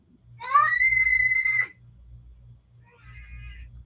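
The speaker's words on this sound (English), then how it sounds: "Like, those girls know how to scream." A high, shrill scream from girls rises and holds for about a second over a low background hum, then a fainter, shorter scream follows further off.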